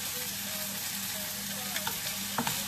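Mushrooms and tomatoes sizzle loudly in a pan for a low-carb seafood paella, a steady dense crackle with a few light scrapes of stirring near the end.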